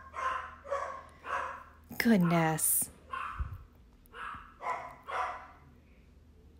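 Several household dogs bark in short repeated bursts indoors while someone speaks over them and a man yells at them, the barks loud and near.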